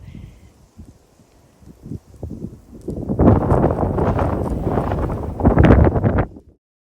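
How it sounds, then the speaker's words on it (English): Wind rising in a winter garden: a quiet start with faint scattered rustles, then a strong, steady buffeting rush that hits the microphone for several seconds before cutting off. "the wind is picking up"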